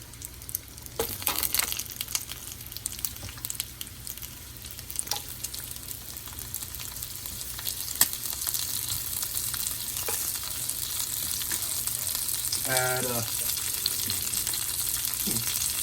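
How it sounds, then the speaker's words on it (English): Steady sizzling and crackling of onions frying in hot bacon grease, with occasional stirring and a brief clink of a utensil against the pan. "let them saute inside that good old bacon grease"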